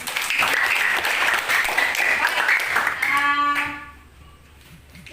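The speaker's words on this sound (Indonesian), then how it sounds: "Ya, tepuk tangan." A class of students claps together in steady, dense applause that fades out after a few seconds, with a brief tonal note near the end.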